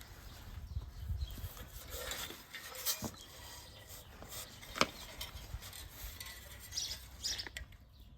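Thin wire is drawn through the holes of a wooden beehive frame, making faint, close scraping and rubbing sounds with a few small clicks in a quiet room.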